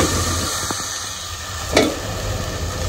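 Prawns go into a hot pan for a radish and small-fish dish and sizzle with a steady close hiss, and a brief clink sounds partway through.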